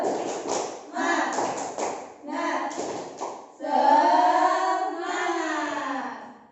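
Children chant a rhythmic hand-clapping routine, their sung voices interleaved with quick bursts of claps and taps, close and lively in a classroom-like setting.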